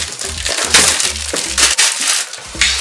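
Crinkly crackling of plastic wrap being peeled off a new MGC puzzle cube box during an unboxing, coming in close, loud bursts of rustle and tearing with short pauses between.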